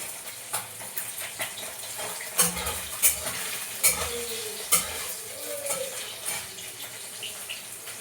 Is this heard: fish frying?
yes